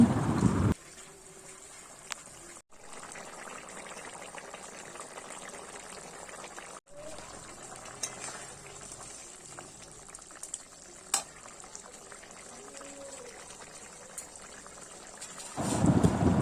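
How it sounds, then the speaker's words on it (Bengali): Fish curry simmers in a pot, a soft, steady bubbling that stays faint and close throughout, with a few brief gaps and a louder clatter at the very start and end. "মাছগুলো দিয়ে আমি অনেকক্ষণ ধরে ফুটিয়ে নিচ্ছি"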